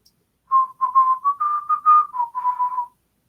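A person whistles a bright, steady melodic phrase of about ten short notes at a campground haunted-house site, clear and close with no talking.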